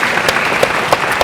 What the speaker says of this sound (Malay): berikan tepuk tangan untuk diri sendiri semua.